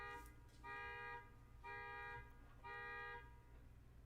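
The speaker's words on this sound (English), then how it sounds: "We got 2 car alarms going off." A car alarm blares in three long, even pulses separated by short gaps, steady and tonal, heard from some distance over low background rumble.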